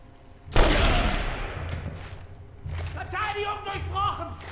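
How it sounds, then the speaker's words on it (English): Gunfire in the World War II shooter Enemy Front, apparently from an MG42 machine gun: a loud burst of shots hits sharply and then trails into rumbling battle noise, with a voice talking over the later part. "That is an MG42,"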